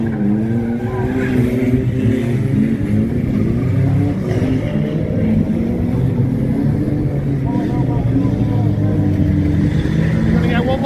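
Stock cars race into a corner at Warton during a winter open meeting, a loud, dense roar of several engines revving and droning together at close range, with a commentator talking over the noise throughout.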